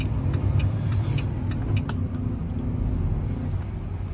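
Delivery truck rolling through a car park, a loud steady engine rumble close by with tyre and road noise throughout and a few faint knocks.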